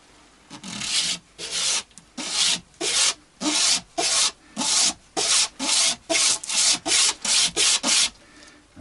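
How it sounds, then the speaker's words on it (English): Bone guitar nut for a Vintage V100 being sanded down by hand, a steady run of about eighteen rhythmic rasping back-and-forth strokes, close and clear with no talk. "let's just get this nut thinned down to the right dimension"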